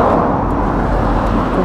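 Cars pass steadily on a town-centre road in Inukai, Oita, giving a constant close rumble of tyres and engines at an even level, with no voices.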